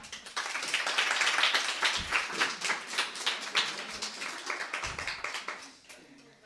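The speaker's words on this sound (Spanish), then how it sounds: "pido un aplauso para ella" An audience applauds to celebrate the birthday of CJE president Andrea González Henry at a live event, dense clapping starting quickly, holding steady for several seconds, then thinning and fading out at the end.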